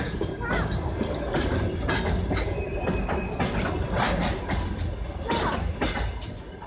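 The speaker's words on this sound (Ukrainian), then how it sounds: "Щось, щось часто почали маніврові їздити." A shunting locomotive rolls past on a railway nearby, giving a loud continuous rumble with rhythmic clatter of wheels and occasional squeals, with no voices present.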